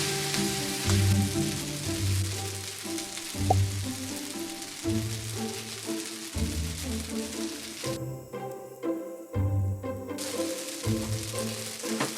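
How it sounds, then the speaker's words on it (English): Spaghetti frying with bacon in oil in a pan, a steady hissing sizzle like rain on a surface, with a low rhythmic hum pulsing underneath throughout. "add the spaghetti and let it cook with the bacon for some minutes to fuse the flavors"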